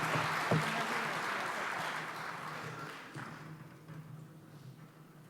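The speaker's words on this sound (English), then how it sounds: "So please help me give another round of applause to Dr. Cantor." An audience at a conference general session applauds Dr. Cantor, a full round of clapping that starts strong with a thump near the beginning and gradually thins and fades toward the end.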